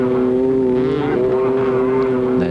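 A scramble race motorcycle nears the final water hole on the last lap, its engine a loud, close, steady droning whine with a slight pitch dip midway and a rev change near the end.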